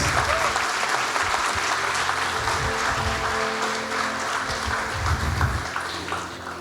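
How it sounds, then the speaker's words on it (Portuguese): A church congregation applauds during a morning service: dense, sustained clapping from a full room that stays loud and steady for the whole stretch, with a few faint voices mixed in. "Você pode aplaudir o Senhor nessa manhã?"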